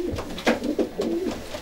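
A two-year-old homing pigeon cock coos in an Irish loft, a few soft, throaty rolling calls in quick succession, close and moderately loud with no talk over them.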